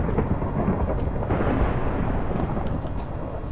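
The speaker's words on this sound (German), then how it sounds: "Da ist gerade ein Blitz eingeschlagen." Thunder after a lightning strike in the video game Minecraft, a loud continuous low rumble that rolls steadily throughout with no talking over it.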